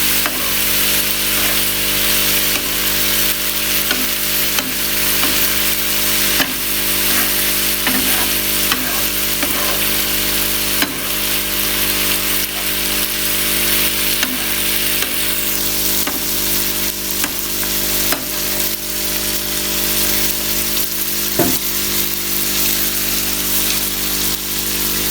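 Chicken tikka burger filling with vinegar fries over low heat in a pan, a continuous close sizzle broken by scattered clicks and scrapes of a spoon stirring, with a steady background hum throughout.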